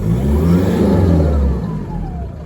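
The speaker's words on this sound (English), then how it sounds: "Now have a listen to the turbo." A car engine with about 250,000 km on it revs up close and loud, a sustained deep roar with a faint rising turbo whine above it, settling lower as it eases off.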